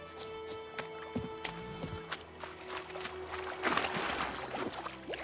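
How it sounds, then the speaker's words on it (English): Horse hooves clip-clopping and a whinny in the video game The Witcher 3: Wild Hunt, heard by a riverbed over a steady ambient bed with flowing water, moderately loud, with no talking. "Whoa there, Roach. You hang out, Roach. Go eat some grass"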